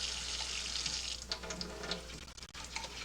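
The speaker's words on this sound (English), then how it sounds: "fill each one 3 times with cold water." Cold tap water runs steadily into empty tomato paste cans at a kitchen sink, a continuous close, hissing splash with small shifts in pitch as each can fills, no talking.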